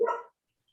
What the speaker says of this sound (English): Sounds like my dog when they really, really want to go for a walk.